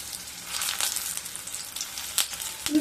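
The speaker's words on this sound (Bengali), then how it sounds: "তেলটা গরম হয়ে গেছে। এবার উচ্ছেগুলোকে দিয়ে দেব।" Stuffed bitter gourds (karela) hiss and crackle as they go into hot mustard oil, a close, steady sizzle with brief louder spits and a clink near the end; no one talks.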